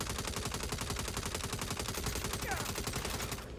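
Assault rifle fire in the Saints Row video game, a steady run of rapid, evenly spaced shots continuing loudly through the whole stretch and stopping just at the end.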